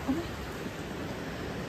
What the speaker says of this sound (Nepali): हेर्दा हेर्दै पानी परिदियो गाइस